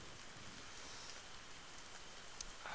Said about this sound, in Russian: Дождь идет, промозглый жуть.